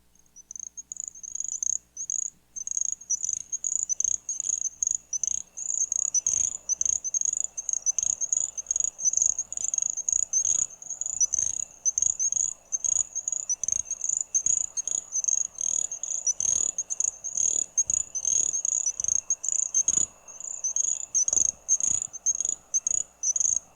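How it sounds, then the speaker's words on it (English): Repeated high tinkling, insect-like trills from North America's smallest frog, a tiny honeybee-sized species, ring out in a long rapid series over a quiet night background with faint low clicks. "Adults are no larger than a honeybee and have a tinkling insect-like call."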